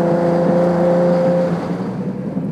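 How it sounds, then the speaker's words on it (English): A 1972 Triumph TR6's engine and exhaust hum steadily from inside the car while driving, holding a smooth tone that eases slightly toward the end. "The tune on this little motor is really impressive, and the exhaust."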